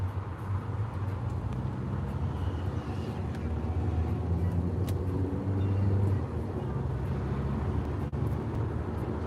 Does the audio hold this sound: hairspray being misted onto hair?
no